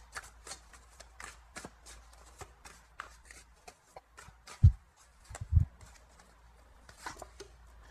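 Tarot cards are shuffled for another draw, giving soft rapid riffling and flicking in quick repeated bursts close to the microphone, broken by a couple of duller thumps, with no talking.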